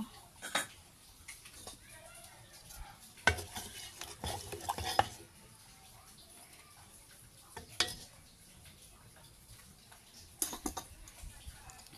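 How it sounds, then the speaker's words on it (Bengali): Boiled eggs being stirred into a pot of cooking meat curry, with intermittent scraping clinks of a spoon against the pan in several short bursts over a quiet background, fairly close. "এখন আমি এখানে সিদ্ধ করা ডিমগুলো মাংসের সাথে দিয়ে দিব।"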